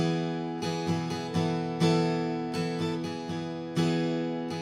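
Acoustic guitar strummed in a steady pattern, with some down strums hit noticeably harder than the rest; close and clear, no voices.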